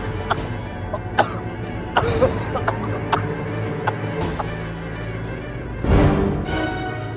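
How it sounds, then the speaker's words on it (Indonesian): Several short coughs scattered through the clip, with a louder, harsher fit of coughing up blood near the end amid background noise. "Kenapa aku jadi batuk darah begini?"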